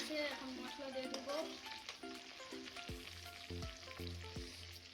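Onions fry in a pan for mutton curry with a soft, steady sizzle and occasional stirring, while people talk over it.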